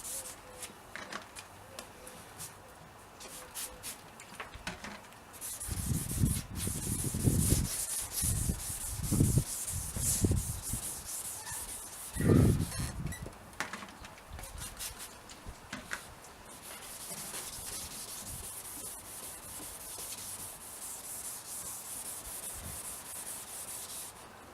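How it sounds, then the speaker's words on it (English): Plastic car headlight being hand sanded with 1000 grit sandpaper under palm pressure, a run of scratchy rubbing strokes, several heavier bursts in the middle, then a softer continuous scuffing. "I'll keep sanding this, and then the next one I'll be on a 2000 grit"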